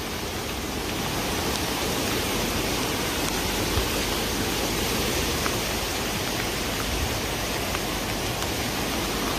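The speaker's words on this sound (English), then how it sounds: "This is not even a creek anymore, it's a river. This is all massively flooded right here." Flooded creek near Santa Rosa, California, swollen into a raging river, a dense, loud, unbroken roar of rushing water filling the whole stretch with no voices.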